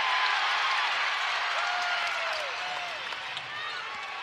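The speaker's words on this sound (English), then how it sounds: "the crowd here in Dallas starting to cheer louder" Basketball crowd in a Dallas arena during an NCAA college game, a dense, steady roar of cheering and applause filling the hall, with whistling tones and a commentator's voice faintly over it.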